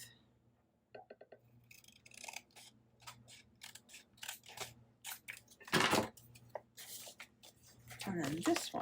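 Paper being cut to length for a craft project, a close run of crisp scissor snips and rustling paper handling, with a quick louder cutting burst near the end.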